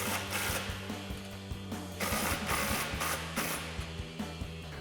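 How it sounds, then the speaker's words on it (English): A 14 mm socket ratchet snugs down the exhaust clamp bolts on a Silverado 1500, giving quick rhythmic clicking bursts with short pauses between strokes, close and fairly quiet. "we'll grab our 14 mil socket and snug these down"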